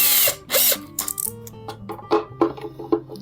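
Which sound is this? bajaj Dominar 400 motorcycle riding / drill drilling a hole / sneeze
drill drilling a hole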